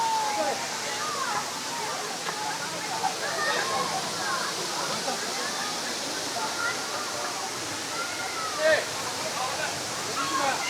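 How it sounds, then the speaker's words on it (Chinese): Roar of a mountain waterfall on a hiking trail in Hunan, a steady broadband rush of falling water filling the whole scene at close range, with faint voices and small sounds scattered over it. "全部是这种非常漂亮的瀑布"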